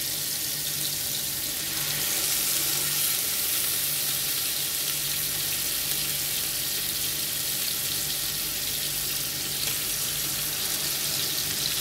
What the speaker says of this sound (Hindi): सिर्फ चिकन जो सा है वो ऐड करना है कि इसे अच्छा सा कलर आ जाए और ये फ्राई हो जाए